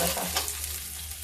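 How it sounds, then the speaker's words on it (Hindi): Onions frying in a pan for a home-cooked udad dal fare dish, a steady close hiss and sizzle with faint stirring, no voices over it. "प्याज पक रहा है"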